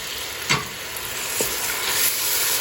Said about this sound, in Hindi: 1/4 कप वाटर में ऐड कर रही हूँ